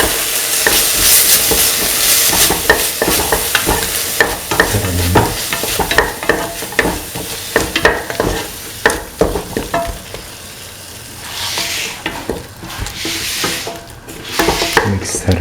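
Chili yogurt being stirred through potatoes and chickpeas in a hot pan, a continuous sizzle with repeated close spoon scrapes and clinks, easing briefly near the end before picking up again, no talk.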